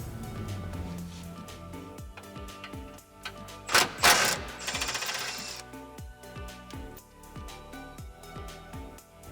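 An 18mm socket on an extension working loose a factory bolt on a Jeep JLU 4xe underbody, a rapid series of close metallic ratchet clicks and clanks, with a brief louder burst of tool noise midway.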